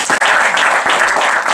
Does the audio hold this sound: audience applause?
yes